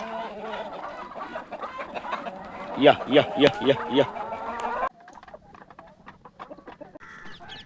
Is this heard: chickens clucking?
yes